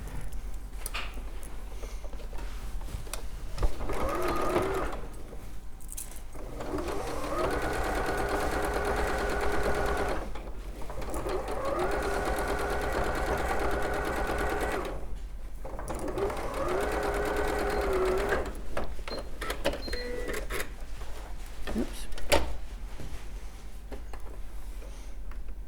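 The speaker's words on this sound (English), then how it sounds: "we're going to sew again 1 centimetre seam allowance on there" A sewing machine stitches a shirt yoke seam in several steady, whirring bursts a few seconds long, separated by brief pauses, close and clear against a quiet room.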